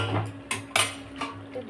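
Goat liver stir-frying in a spice paste in a pan, heard as a soft background fry broken by several sharp scraping and clattering strokes of a spatula against the pan.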